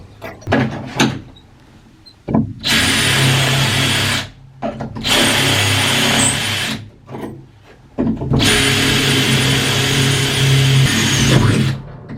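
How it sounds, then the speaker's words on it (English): Loud power drill bursts drilling rivet holes for a roller door bracket, three long runs of whirring with short pauses between, close by, with a few clanks before the first. "So just drill those holes there."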